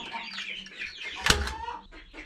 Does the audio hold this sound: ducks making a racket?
yes